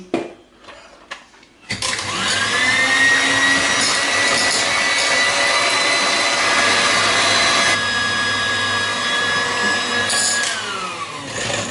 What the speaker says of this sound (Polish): Jajka z cukrem ubijamy na puszystą masę